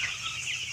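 Chicks on a farm pecking at scattered grain give a brief burst of close, high, thin clucks and peeps over a faint low background hum.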